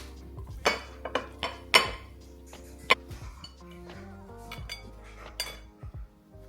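Dishes, pots and cutlery clinking during breakfast preparation in a home kitchen, with several sharp clinks and clatters spread over quieter handling sounds.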